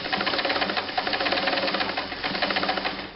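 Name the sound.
Kenmore 158.510 sewing machine stitching a full width zigzag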